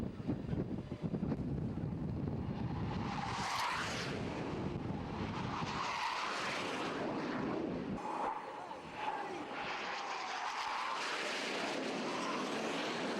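Steady, loud roar of a Skyhawk jet aircraft in flight, with a wide noisy rush that swells and fades as it passes, partly buffeted by wind.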